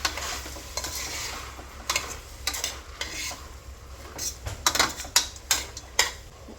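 A spoon stirs tomatoes into tomato bath in a frying pan, scraping and clinking against the metal over a soft sizzle, with the taps growing busier toward the end.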